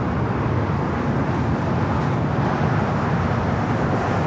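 Loud, steady broadband jet engine roar of a Boeing Dreamliner on its takeoff run at LAX, a continuous rumbling wash with no voices over it.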